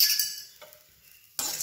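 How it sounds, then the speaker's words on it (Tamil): Chana dal and crushed unpeeled garlic stirred in a few drops of oil in a pan, giving short bursts of scraping, rattling stir sounds with a quiet gap between them. "ஒரு 2 சொட்டு எண்ணெய் மாதிரி ஊற்றிட்டு கடலைப்பருப்பு போட்டுருங்க."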